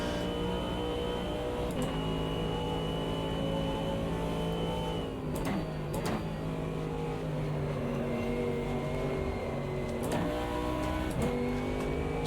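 A GT3 race car in the sim racing game Automobilista 2 drones steadily at high revs, with its engine note rising and falling through a few quick gear shifts. The engine plays loud and continuous with no talking.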